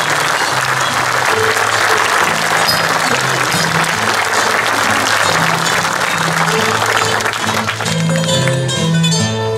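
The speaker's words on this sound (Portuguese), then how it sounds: "as vossas mãos fumeguem de palmas" An audience at a cantoria folk singing show applauds Roberto with loud, sustained clapping that fills the space continuously, with a few musical tones sounding underneath.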